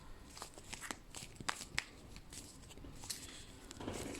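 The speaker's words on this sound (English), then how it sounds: "So while I was shuffling these cards" Tarot cards being shuffled by hand, a soft papery riffle and slide with scattered light taps and flicks, close and quiet with no talk.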